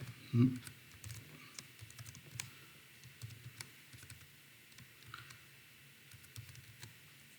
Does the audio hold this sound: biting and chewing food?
no